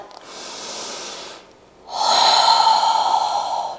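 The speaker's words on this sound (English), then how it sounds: "Perhaps you take a big inhale and exhale out of the mouth." A person takes a deep inhale, then lets out a longer, louder exhale through the mouth, resting after Pilates squats. The two breaths are close, alone, and separated by a short pause.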